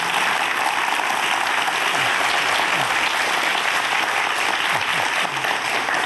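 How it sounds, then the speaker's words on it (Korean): A lecture audience at a brain science talk claps loudly and steadily for the speaker, a thick, even roar of many hands that holds at full strength across the whole stretch with no pause. "우리 박사님 큰 박수 부탁드립니다"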